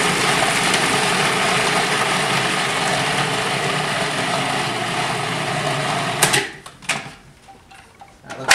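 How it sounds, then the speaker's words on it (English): Fish being blended in a Cuisinart food processor gives a loud, steady motor whir for about six seconds, then cuts off, leaving a few clattering knocks and quieter handling sounds. "we're going to take the fish and we're going to put it into the Cuisinart. Give it a whirl."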